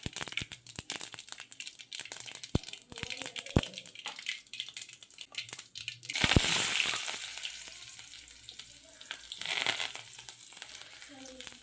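Mustard seeds sputtering and crackling in hot oil in a home kitchen pan, a dense run of sharp pops and sizzle with a louder burst midway, a few distinct crackles early on, and faint background sound.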